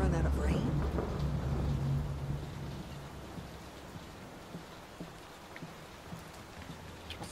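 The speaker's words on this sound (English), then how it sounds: "Will this storm ever run out of rain?" Steady rain in a horror video game, Layers of Fear, patters and hisses throughout, heavier at first with a low rumble, then lighter with scattered drops.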